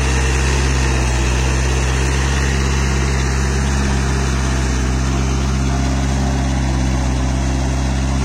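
A VST Sakthi MT 270 DI Virat 4WD mini tractor with 2000 hours of use drones loudly at idle-to-working speed during turmeric harvesting, a deep low rumble running continuously without pause and with no voices.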